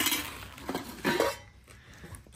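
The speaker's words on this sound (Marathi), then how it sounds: "आणि ही थोडी भांडी मी घेतली आहे." Steel dishes and small household bowls being handled, giving a few light metallic clinks and clatters close by, loudest in the first half, then quieter handling noise.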